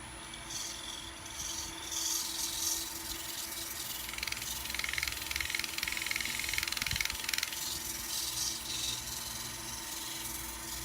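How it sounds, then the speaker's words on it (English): A cedar wood vase is sanded by hand with steady, rasping strokes, a continuous close scratchy rubbing that stays fairly even in level throughout, with no speech over it. "So we get this sanded out"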